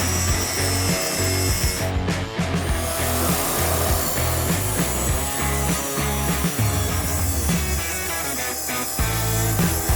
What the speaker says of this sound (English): then we come back outside for the cross-cutting with the track saw